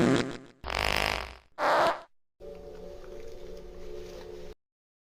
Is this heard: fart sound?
yes